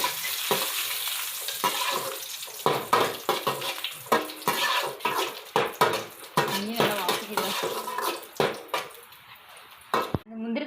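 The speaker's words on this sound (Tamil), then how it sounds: "நெய் ஊற்றி நான் முந்திரி திராட்சை வதக்கிக்கிறேன்." Cashews and raisins fry in hot ghee for kesari, a sizzling pan broken by repeated stirring scrapes and metal spoon clinks throughout, close and busy.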